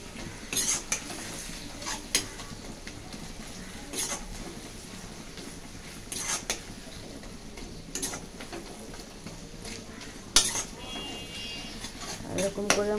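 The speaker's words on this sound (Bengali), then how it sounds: "এরকম করে মশলাটাকে কষতে হবে।" Spoon stirring a spice masala with chopped tomato in a home kitchen pan, soft scraping strokes with clinks of metal at intervals over a faint sizzle, fairly quiet throughout.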